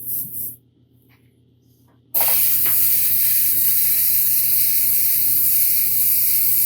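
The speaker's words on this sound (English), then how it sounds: "I'm having a hard time getting the craft paints to spray through, so just crank up my air pressure" An airbrush spraying yellow craft paint at turned-up air pressure gives a steady, loud, close hiss. It starts abruptly after a short quiet stretch with faint clicks and then continues unbroken.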